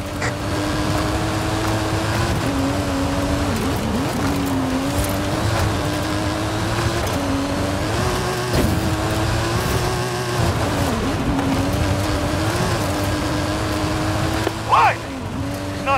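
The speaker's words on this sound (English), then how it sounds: "That stunt vehicle is a Mike Steele Special. Custom engine and suspension." A custom-engined stunt car in the Forza Horizon 5 game drives uphill, its engine droning loudly and steadily with small rises and falls in pitch throughout.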